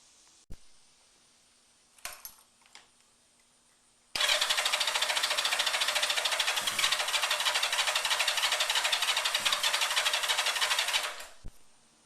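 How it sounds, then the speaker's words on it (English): A 1988 Yamaha Radian motorcycle on regular gasoline cranks without catching: a few faint clicks, then one loud, steady, buzzing starter burst lasting about seven seconds before it cuts off. "we'll just see if we can get the bike to fire on regular gasoline"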